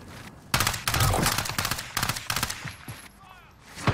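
Rapid bursts of gunfire from a battle royale video game, loud and close, with repeated shots across most of the stretch under players' voice chat.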